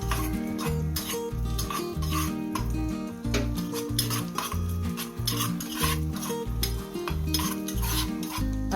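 Cashews and raisins frying in a pan for red aval payasam, with a loud spoon scraping and clanking rhythmically against the metal, a faint sizzle underneath and a prominent musical backing throughout.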